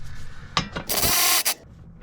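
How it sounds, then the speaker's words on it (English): An electric ratchet spins out a front strut bolt on a Lexus GS450h, giving a loud close whirring burst of about a second with a short stop and restart, set between lighter metallic clicks and handling noises. "I'll use my electric ratchet to pull it the rest of the way out for us."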